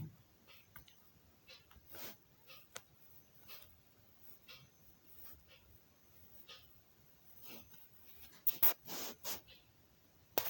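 Pen scratching out a logarithm maths problem by hand during a lesson, faint irregular strokes and taps spread across the stretch with a brief cluster of sharper scribbles near the end, no speech.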